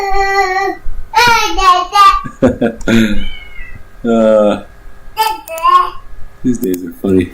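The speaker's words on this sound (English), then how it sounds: "Oh, now here comes our cat." A pet cat meows several times close by, its cries mixed with people talking over it in a home setting.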